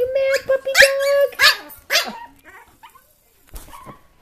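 An upset puppy barks and yips in sharp close bursts, several quick barks with growly edges early on, then trailing off into sparse quieter yaps.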